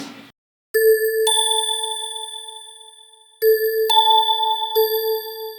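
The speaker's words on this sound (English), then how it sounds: "I found a chorus glock in chromophone and it sounds like this." Bright, bell-like synthesized chorus glockenspiel notes from the Chromophone instrument ring out with long shimmering sustains, struck a few times in a slow, sparse melody with no one speaking.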